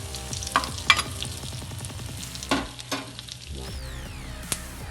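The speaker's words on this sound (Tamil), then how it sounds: "இது நல்லா பொரியட்டும்." Vadagam frying in sesame oil crackles and sizzles softly and steadily, with a few sharp clinks and scrapes of a spoon against the pan.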